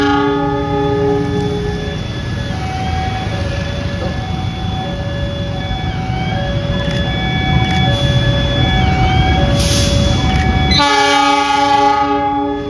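A panoramic passenger train arrives at Surabaya Gubeng station in Indonesia, its loud horn sounding in long steady tones over a constant rumble of wheels and engine, nearby and close, then a sharp change as it passes near the end.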